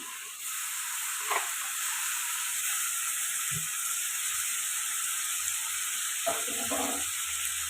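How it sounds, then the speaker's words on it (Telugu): Tomato pieces and ginger garlic paste sizzle steadily in a hot pan for egg curry, a continuous close frying hiss with a few soft scraping stirs near the end. "ఇప్పుడు ఇది పచ్చివాసన పోయేదాకా ఫ్రై చేసుకోవాలి"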